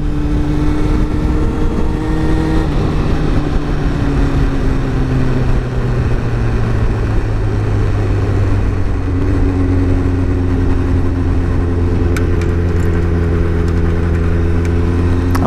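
A motorcycle engine drones close and loud throughout a ride, its pitch sliding down and rising again as the bike shifts and changes speed, with steady wind rush underneath.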